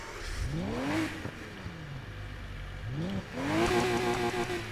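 A flat-12 engine in Need for Speed Heat revs twice, rising and falling smoothly, then climbs to a high sustained whine; no talking.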